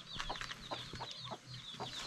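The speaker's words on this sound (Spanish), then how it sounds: "Vean, una gallina." A farmyard hen gives a quick run of short, soft clucks at moderate distance, with no voices over them.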